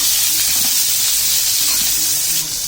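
Raw mango pieces sautéing in hot oil while being stirred, a loud, continuous hissing sizzle that holds steady throughout, close up.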